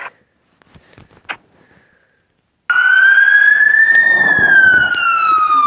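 A fire truck siren from a Minecraft PE addon starts abruptly after a quiet pause and a few soft clicks, then holds as a loud, steady electronic tone that rises slowly in pitch.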